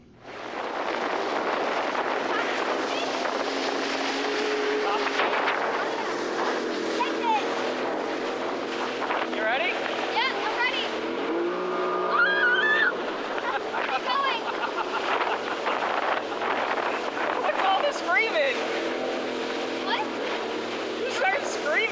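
A jet ski runs over ocean waves off Carambola Beach in St. Kitts, with a constant engine drone, splashing water and heavy wind buffeting the microphone, while riders talk and call out over the noise.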